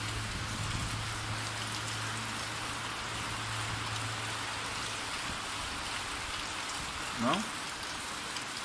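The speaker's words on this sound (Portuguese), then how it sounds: "está vindo a chuva e lá embaixo está vindo a névoa atrás da chuva" Steady rain pours down as a dense, continuous hiss, close and fairly loud, with a low hum early on and a brief voice near the end.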